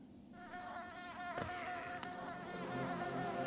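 Insects buzzing in the Hive area of the game Hollow Knight, a steady droning hum with layered whirring tones, moderately loud and continuous, with a couple of brief sharp accents.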